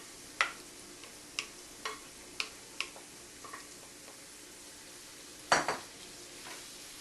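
Shrimp, scallops, garlic and ginger cooking in a pan over very low heat, with a utensil tapping and scraping the pan in scattered clicks and a couple of louder knocks, no talking.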